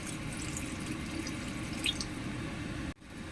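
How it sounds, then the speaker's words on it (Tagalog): Water pouring steadily into a cooking pot, a continuous splashing rush that cuts off abruptly near the end. "Tapos, lagyan natin ng tubig."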